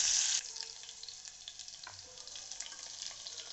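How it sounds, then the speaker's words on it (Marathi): Finely chopped green chili sautés for millet khichdi, starting with a brief loud hiss and then settling into a quieter steady sizzle with faint stirring scrapes. "एक हिरवी मिरची बारीक तुकडे करून चांगलं परतून घ्यायचंय"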